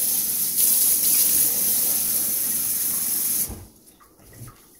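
Water pours steadily into a cooking pot of mung beans with coconut milk, a loud rushing hiss that stops abruptly, leaving faint clinks and quiet kitchen background.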